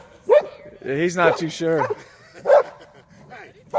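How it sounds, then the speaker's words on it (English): A puppy and an older dog play together, letting out a few sharp barks and yips between stretches of a person speaking calmly nearby. "that's just good puppy play"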